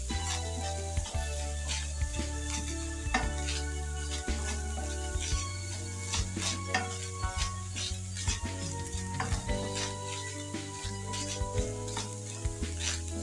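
Beef and oil sizzle and crackle steadily in a pan after the water has cooked off, with frequent clinks and scrapes of a utensil stirring through, close and continuous, while stir fry beef is made for spaghetti.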